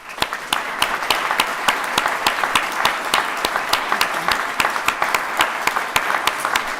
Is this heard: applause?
yes